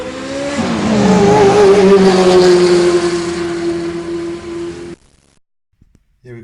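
A race of Hot Wheels toy cars, including a Lamborghini Huracan, rolls down a track with a steady whirring roar that swells and fades over about five seconds before cutting to near silence.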